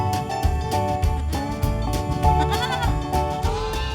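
Lambs and goats at an animal sanctuary bleat repeatedly, with several overlapping wavering calls rising one after another, loud and close, over a faint murmur of background activity.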